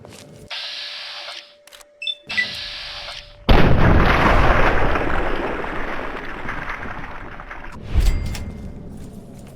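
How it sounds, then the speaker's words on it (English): A sniper gunshot followed by a large explosion in a video game, with sharp shots and mechanical clicks first, then a loud sustained blast and rumbling debris, and a second boom near the end. "I don't seem to care that there was a gunshot and their friend exploded."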